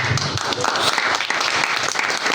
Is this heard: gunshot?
no